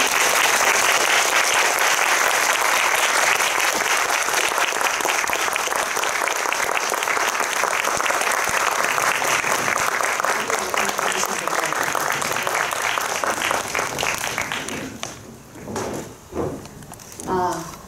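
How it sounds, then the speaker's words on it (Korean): A cinema audience at a Korean film Q&A session gives loud, sustained applause as the actors and director take their seats, the clapping thinning out and fading near the end. "여러분들 큰 박수 주시면 배우분들 그리고 감독님 자리해 주시겠습니다"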